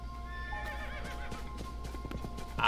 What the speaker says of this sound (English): Such a great horse.